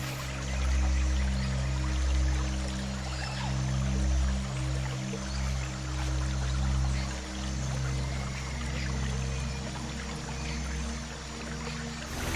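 Cascading river rapids, a steady rushing, pouring wash of water that holds at a fairly constant level with a deep low rumble beneath, heard alone without talking.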